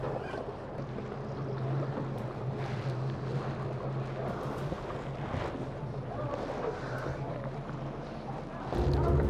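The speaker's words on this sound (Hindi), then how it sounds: "ले भाई चल पड़ी अपनी बोट।" Motor boat on a lake in Munnar, its engine a steady low drone with wind buffeting the microphone, growing louder as it pulls away; voices murmur faintly.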